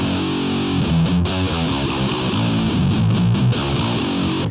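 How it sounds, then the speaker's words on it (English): A heavily distorted, low-tuned electric guitar with an eight-string sound through a BOSS GP-10 plays chugging chords and riffs, thick and loud, with no voices. "So I've got a real fat kind of 8-string sound."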